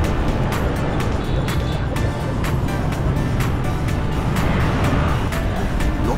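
A motorbike taxi rides through traffic in Hanoi's old quarter, with a continuous close engine rumble and street noise, marked by regular faint clicking ticks throughout.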